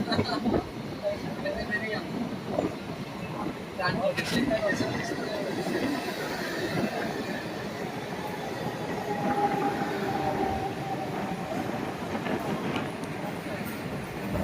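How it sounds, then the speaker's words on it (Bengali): A Howrah–Digha EMU local train rolls into Tamluk station. Its wheels rumble and rattle steadily at close range for the whole stretch, with faint voices in the carriage. "আমাদের ট্রেন তমলুক স্টেশনের 1 নম্বর প্ল্যাটফর্মে ঢুকছে"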